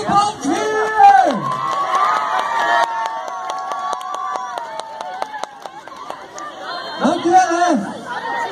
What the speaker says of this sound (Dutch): nog een heel hard applaus voor de brandweer!